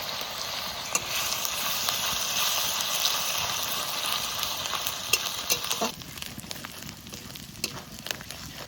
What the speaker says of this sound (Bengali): পেঁয়াজ আদা রসুন একটু ভেজে নিয়েছি।